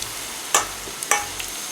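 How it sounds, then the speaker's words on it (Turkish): Oil sizzles steadily in a frying pan with a few sharp crackles and pops as potato fritters fry, close by. "Şimdi ben bütün mücverlerimi koyacağım. Sağlı sollu kızartacağım."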